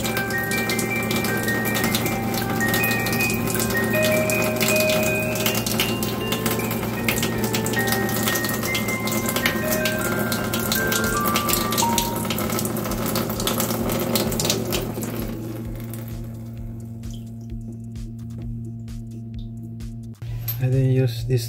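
Filtered water runs steadily from an alkaline water machine into a sink, a continuous hissing flow with a faint mechanical hum and beeping tones before the stream quietens near the end.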